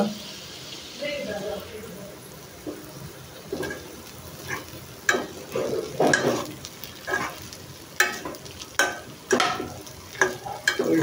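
Vegetable bhaji fries on a home stove, heard as a low sizzle broken by repeated loud scraping strokes of a spoon in the pan, with some background voices.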